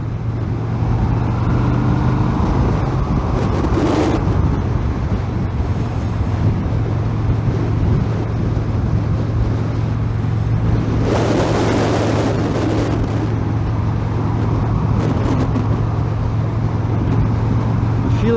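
Yamaha XVS 950 Bolt motorcycle engine pulling steadily while riding, a low continuous drone partly buried under loud, constant wind rush.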